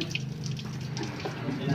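Water is poured steadily in an indoor washing setting, a continuous splashing stream with faint voices in the background.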